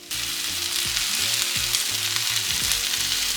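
Onions, two kinds of mushrooms and tomatoes sizzling in a pan for vegan sukiyaki, a loud continuous hiss of frying, close and steady, with faint low tones underneath and no talking.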